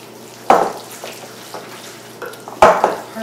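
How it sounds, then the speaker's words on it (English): A utensil stirs a Parmesan cheese mixture in a bowl, with two sharp scraping knocks against the bowl between softer, faint stirring clicks and no talk. "Let's stir this up."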